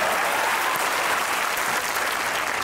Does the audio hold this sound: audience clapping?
yes